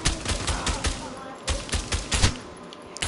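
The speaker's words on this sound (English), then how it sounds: "I'm getting shot from the left side" Rapid automatic gunfire in the open-world shooter Avatar: Frontiers of Pandora, with dense close bursts of shots in quick succession and brief gaps between them.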